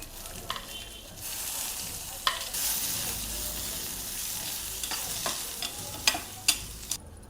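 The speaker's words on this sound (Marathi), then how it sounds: "एक अर्धा चमचा तेल घ्यायचे, खोबरं भाजून घेऊ त्याच्यामध्ये" Grated coconut roasting in a little oil in a pan, a close hissing sizzle punctuated by sharp spatula scrapes and taps against the pan, no voices.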